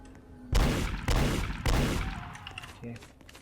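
Gunfire in the Roblox zombie survival game Dead Rails: three loud, close shots about half a second apart, each with a long booming tail, ending with a fainter click.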